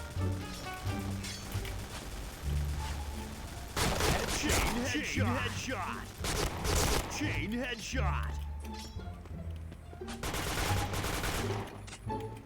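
Rapid gunfire in the online shooter Point Blank, several loud bursts of automatic fire with clicks and mechanical sounds between them, over a steady low game backdrop.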